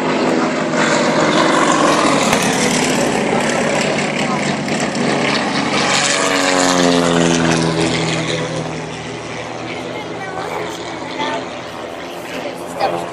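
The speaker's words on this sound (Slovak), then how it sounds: "Takto tie lietadla naozaj lietali. Pár metrov nad zemou." Propeller aircraft fly low overhead in an air battle at an air show, a loud droning engine roar that swells and then recedes with a falling pitch, while people talk over it.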